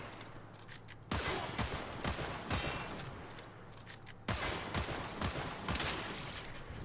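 Rapid bursts of Zylok pistol fire in Warframe, sharp repeated shots in quick succession with two strong volleys, loud and close, no voice over them.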